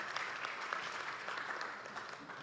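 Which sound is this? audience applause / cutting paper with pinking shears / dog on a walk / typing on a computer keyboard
audience applause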